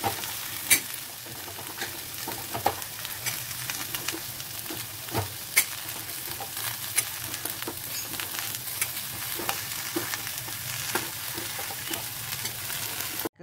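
Beetroot being stirred in a dry pan with no oil, giving a steady soft sizzle and frying crackle with occasional scraping clicks of the spoon, close and continuous for the whole stretch with no talking.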